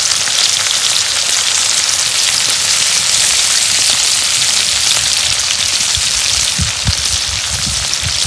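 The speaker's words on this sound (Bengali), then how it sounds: "তেল গরম হচ্ছে, এখন আমি পেঁয়াজ কুচি দিয়ে দেব।" Chopped onion with green chili sizzles steadily in hot oil for a home-style banana-stem fry, a dense continuous crackle with a few low bumps near the end and no talk.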